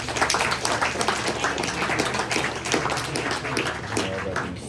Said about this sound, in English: let's give another round of applause to Ben